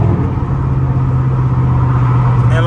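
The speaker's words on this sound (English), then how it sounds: "the car is catless, fully straight piped. This is exactly how it sounds." A tuned all-wheel-drive HEMI Chrysler 300, catless and fully straight-piped, gives a loud, constant deep exhaust drone while cruising at night in downtown Chicago, heard close from inside the car.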